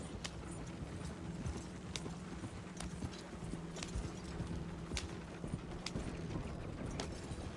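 Horse hooves clip-clop steadily at a riding pace in the Western game Red Dead Redemption 2, a continuous rhythmic thudding with occasional sharper hits over a low rumbling background, with no talking.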